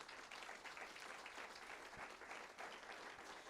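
Sustained applause from a church congregation, a dense, steady wash of many hands clapping together at a constant loud level throughout.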